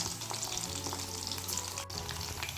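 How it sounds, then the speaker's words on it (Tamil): Chicken 65 pieces deep frying in oil, a continuous close bubbling sizzle that holds steady throughout with no talk. "ஒரு 2 மினிட்ஸ்க்கு அப்புறம் சிக்கனை நல்லா பிரட்டி போட்டு பொரிச்சுக்கோங்க"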